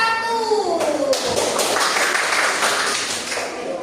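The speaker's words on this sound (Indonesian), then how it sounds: "Tepuk tangan untuk kelompok 1" Schoolchildren in a classroom applaud a student group, a burst of scattered claps rising over a voice at the start and then thinning out.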